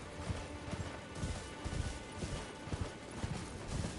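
A horse's hooves clop in steady rhythmic beats during riding in the video game Elden Ring, close and moderately loud over a dense background wash, with occasional heavier thuds.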